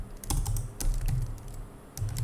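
Keyboard shortcut keys on a computer keyboard give a brief, close flurry of a few sharp clicks in quick succession over a low room hum, with no one talking.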